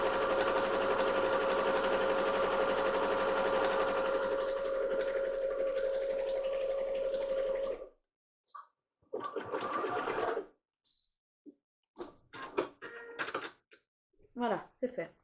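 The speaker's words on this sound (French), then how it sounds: "Et hop, point zigzag de nouveau sur toute la longueur." A sewing machine runs a zigzag stitch along a washable fabric face mask, a steady whirring hum for about eight seconds, then stops; short clicks of fabric and fiddling with the machine follow.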